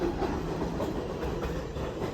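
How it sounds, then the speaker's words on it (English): A New York City subway 7 line train rolls through a station, a steady close rumble of railcars with rhythmic wheel clatter, lasting throughout without any talk. "Wait till this train gets out of here."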